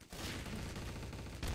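Sustained gunfire in Garry's Mod, a dense, continuous rattle of shots that holds steady, then a louder burst near the end, fairly close with no clear talk over it.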